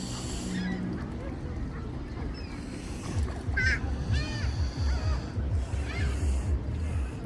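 Geese or ducks honk at Bluffers Park on Lake Ontario in Toronto, Canada, a few short nasal calls rising over a steady rumble of water and wind, with a speedboat nearby.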